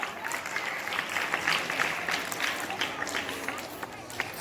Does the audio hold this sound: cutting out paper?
no